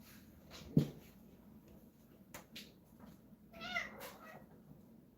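Domestic cats meowing at moderate distance: several separate meows spread over a few seconds, with a sharp knock near the start and a louder, drawn-out cry toward the end against a quiet room.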